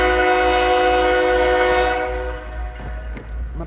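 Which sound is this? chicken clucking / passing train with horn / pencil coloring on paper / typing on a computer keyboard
passing train with horn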